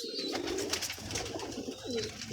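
A pigeon from Lahore coos in a soft, repeated throaty phrase, close by and fairly quiet, with no talking over it.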